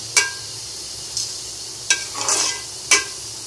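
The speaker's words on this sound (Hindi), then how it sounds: "मैं इसके अंदर काली मिर्च पाउडर शामिल कर रही हूँ और इसको अच्छे तरीके से मिक्स करके दम पे लगाने लगी।" Black pepper powder being stirred into chana pulao rice in a pot: four sharp spoon scrapes against the metal, spaced about a second apart, with a brief soft rustle of rice between, over a quiet background.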